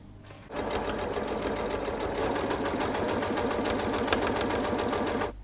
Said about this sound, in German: Dann nähen wir die Knopflöcher.